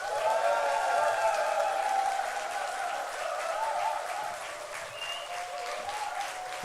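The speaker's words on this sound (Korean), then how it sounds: "박수합니다." Applause from a church congregation welcoming a missionary during a Korean worship service: dense, steady clapping fills the sanctuary and lasts throughout, with faint cheering mixed in as it slowly eases off.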